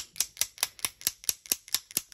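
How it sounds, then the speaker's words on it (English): A bone folder taps sharply against a watercolor card about nine times in a steady, even rhythm, each smack crisp and close with a quick decay, no voices. "I've got a bone folder here. And I'm just going to smack it against um, this card"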